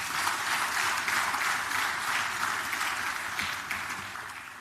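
An audience applauds for Lagos Business School at a retail congress, a steady wash of clapping from many hands that holds for several seconds and slowly fades.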